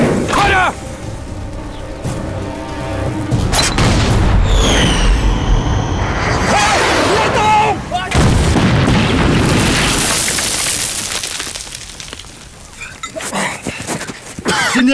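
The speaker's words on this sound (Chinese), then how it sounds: "我开炮行吗" An artillery cannon fires in a war drama scene, a loud close boom with a long rumbling tail followed by crackling debris and hiss, with shouting voices around it.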